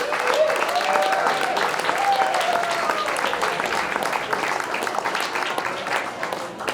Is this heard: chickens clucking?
no